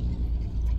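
Inside a car creeping slowly through a traffic jam, a low steady engine and road rumble hums, brief and unbroken, with no talking.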